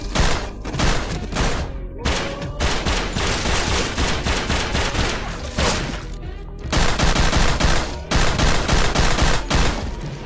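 Loud, dense gunfire rips through a sofa in a casino crime comedy scene: continuous rapid volleys of shots with short breaks, overwhelming and close, with no voices.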